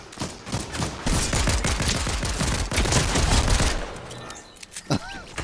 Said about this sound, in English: there was literally somebody else shooting right there